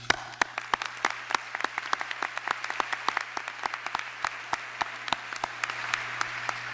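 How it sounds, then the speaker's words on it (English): Luncheon audience at a children's museum fundraiser giving a round of applause: scattered, fairly sparse claps, crisp and distinct, with a steady low hum underneath and no speech. "give them a round of applause"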